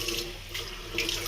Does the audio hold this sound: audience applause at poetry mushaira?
no